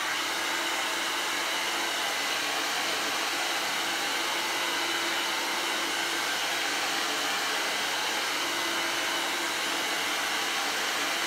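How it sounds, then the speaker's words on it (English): A hair dryer runs steadily on high heat, aimed at a vinyl runner, a loud continuous rushing whir of air that holds constant throughout with no voices. "today I'm just going to use a hairdryer set on high heat"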